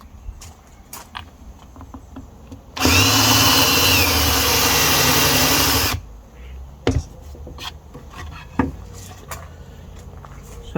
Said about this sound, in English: This is a countersink. I'll show you what it does.